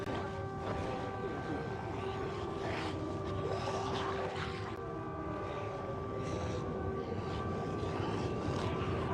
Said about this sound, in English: You can hear the plane's jet engines, the turbines.